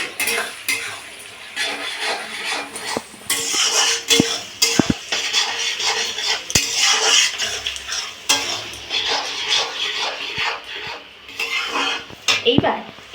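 A spoon stirs chopped tomatoes and fried onions in a pan, clattering and scraping against the metal in uneven bursts, with a soft sizzle underneath and no talking.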